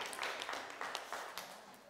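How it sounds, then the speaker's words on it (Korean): Brief scattered applause from a lecture audience, a short burst of faint handclaps that tapers off within two seconds. "오리션 박수 한번 쳐줄까요?"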